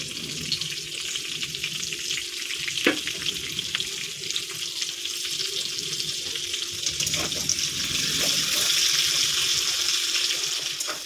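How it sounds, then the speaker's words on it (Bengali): Chopped onion and garlic fry with cumin seeds in hot oil in a wok-style pan, making a loud, continuous, hissing sizzle close up, with a couple of sharp clinks and no talking. "এবার দিয়ে দেবো পেঁয়াজ আর রসুন কুচিটা।"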